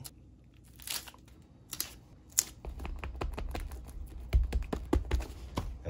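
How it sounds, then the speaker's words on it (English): Tape pulled and pressed down over a patched subfloor and underlayment, with sharp crinkles and tearing snaps at first, then a rapid run of crackling, tapping strikes close to the microphone. "Then I'm gonna tape it."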